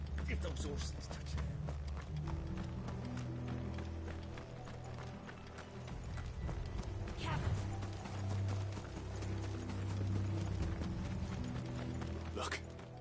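Horse hooves clip-clop in a steady running rhythm in the Final Fantasy 16 video game, moderately close, with game voices talking and a brief whinny over the hoofbeats.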